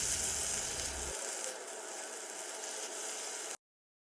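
Peppers fry in a hot pan, a steady hissing crackle with a louder first second, then cutting off abruptly.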